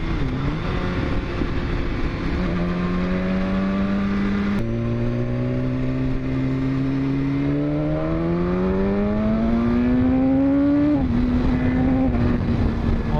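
A 2015 BMW S1000RR sport motorcycle engine revs up through the gears with a quick shifter, pitch climbing then dropping at each quick shift, loud and close under constant wind rush.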